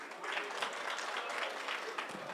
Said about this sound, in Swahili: Thank you, makofi kwake.